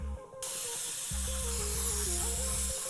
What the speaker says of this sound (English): Let's give it another spray.